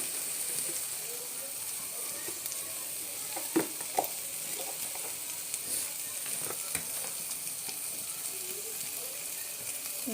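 Pigeon curry sautéing in a pan, a steady close sizzle and hiss with scattered clicks and scrapes of stirring, no talking.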